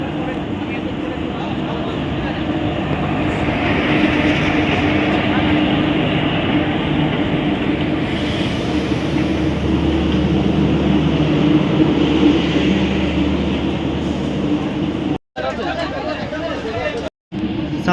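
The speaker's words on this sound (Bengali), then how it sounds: "সাঁতরাগাছি ছেড়ে দিল ট্রেন" An LHB Jagannath Express train pulls out of Santragachi, its steady rolling rumble and hum filling the scene evenly throughout, briefly cut by two short dropouts near the end.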